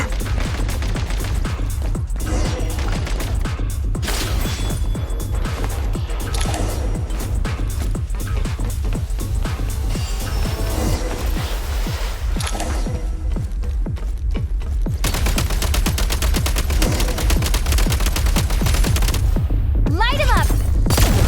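Rapid gunfire in the video game Everwinter Without Mercy, dense bursts of automatic and single shots hammering almost without pause, loud and close throughout.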